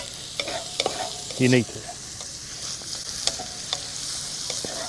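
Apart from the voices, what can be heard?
sautéing food in a pan over an open fire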